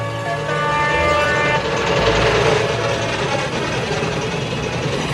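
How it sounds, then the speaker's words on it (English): An express diesel train rushes past, a loud, continuous growl and roar of engine and rolling wheels that swells and holds across the whole passage, with a brief horn-like tone early on. "The Limited rushed by with a growl and a roar."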